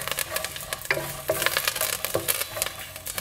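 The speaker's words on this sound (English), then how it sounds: "Mix it well." Curry leaves and asafoetida being stirred into hot oil in a pan for a South Indian rasam tempering, with a steady sizzle and frying crackle under repeated scraping strokes of the spoon, close and clear, no talk.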